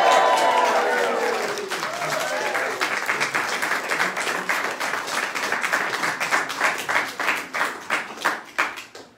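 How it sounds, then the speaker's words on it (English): Wedding ceremony guests at Airth Castle in Scotland burst into cheering and sustained applause, a dense crowd of clapping hands that thins into scattered claps at the end, with a few voices at the start. "Can I ask for a big cheer to do that?"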